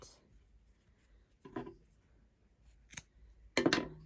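Scissors snipping off crochet yarn on a catnip cat toy, with three separate quiet cuts spaced apart in a calm setting, the last one the loudest and longest.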